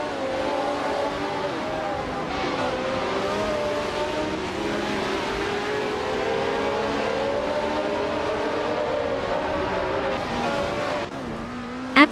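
Racing cars overtaking one another on a track, a loud, unbroken roar of layered engine whine that rises and falls as the pack jostles, with no breaks in the noise.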